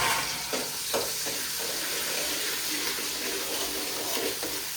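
Mustard seeds and vadagam sizzle and crackle in hot oil, a steady broadband frying hiss with a few small pops, continuous and fairly close throughout.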